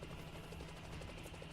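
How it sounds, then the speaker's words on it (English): Helicopter blades in the game Girls Frontline give a faint, steady rhythmic thudding that seems to come from outside a building, with a low engine rumble underneath. "You can hear the beating of a chopper blades outside the building."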